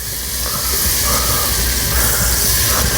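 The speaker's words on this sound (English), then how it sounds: "You're gonna hear that sizzle." Loud, continuous hissing sizzle of butter sautéing in a hot Instant Pot, close up, broadband and steady without pauses.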